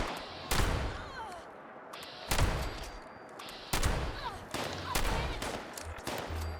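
Gunfire in the video game Fallout 76 comes in sharp, loud bursts about every second or so, each blast ringing out over a noisy background.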